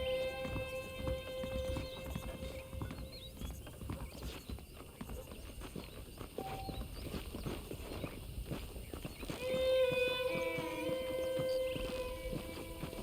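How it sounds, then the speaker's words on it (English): Horses clip-clop at a walk in the Western video game Red Dead Redemption, with irregular hoof steps over ambient outdoor sound and a brief whinny-like tone near the end. "The horses are saddled up over here."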